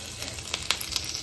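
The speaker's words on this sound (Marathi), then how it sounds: "मी आता हे तळून घेते" Kothimbir vadi pieces sizzle steadily in hot oil in a kadhai, a dense, close frying hiss with small crackling pops and no voices.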